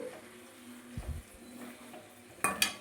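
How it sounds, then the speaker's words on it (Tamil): Drumstick greens being sautéed in a pan for a murungai keerai thokku, with a soft background sizzle, a few muffled spoon stirs, and two sharp metallic clinks near the end. "இப்போ இந்த மாதிரி நல்லா வதக்கிடணும் பச்சை போடுற அளவுக்கு"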